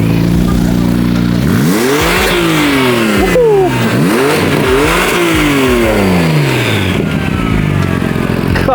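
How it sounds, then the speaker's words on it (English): A Nissan GT-R R35 engine revs hard in several repeated rising and falling sweeps, very loud and close. A steady idle runs before and between the blips. "I'm gonna give it a little rev."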